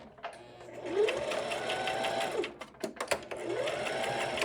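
A sewing machine runs in two close, steady bursts as it stitches fabric for a scrunchie, with a brief pause and a few clicks and thumps between the runs.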